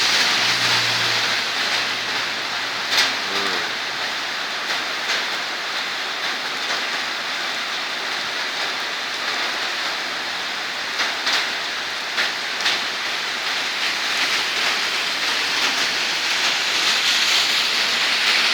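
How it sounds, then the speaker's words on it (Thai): Steady rain hisses continuously, with a few brief louder patters and a low hum near the start. "ฝนตกครับ"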